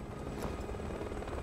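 Helicopter in Resident Evil 6, a steady loud rotor drone with continuous whirring chop, no speech, filling the whole stretch.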